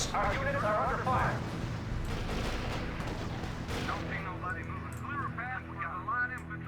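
Battlefield gunfire and artillery in the World War II strategy game R.U.S.E., a dense, continuous din of shots and blasts with honking, squawking bursts mixed in, steady and fairly loud from start to finish.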